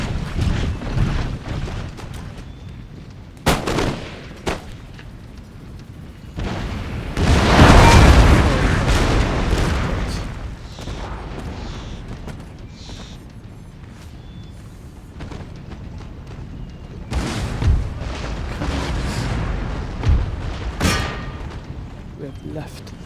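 Artillery barrage in Empire Total War, a series of booming blasts and rumbling bursts, loudest midway, rolling under battle noise with voices talking over parts of it.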